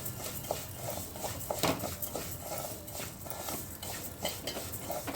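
Wheat semolina roasting in a pan, stirred with a utensil: a soft, faint sizzle broken by irregular light scrapes and taps as the grains are turned.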